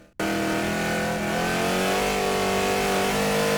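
A street stock race car on a qualifying lap at a speedway roars in abruptly and holds a loud, sustained engine note that climbs slightly in pitch, close and dominant.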